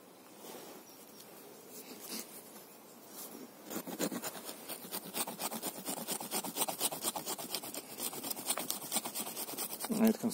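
A knife blade scrapes with a rasping, repeated back-and-forth stroke, close and fairly quiet. The rhythm grows steadier and stronger toward the end.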